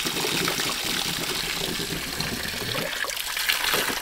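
Water trickles and bubbles steadily through a filter bucket feeding a ram pump, a continuous close gurgling flow with scattered bubbling pops and no voices.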